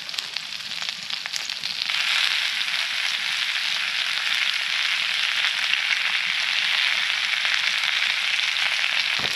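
Diced venison backstrap sizzles in a pan at a winter bushcraft camp, a loud steady hiss that swells after a quieter start and carries on unbroken, with no talking.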